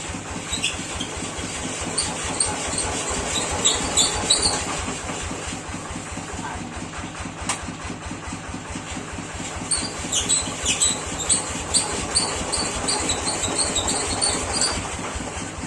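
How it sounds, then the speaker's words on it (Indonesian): An old tractor engine runs steadily after a fuel line was left disconnected, a continuous rhythmic mechanical chugging with clattering knocks, close and fairly loud throughout. "Wah guys, mesinnya paek guys."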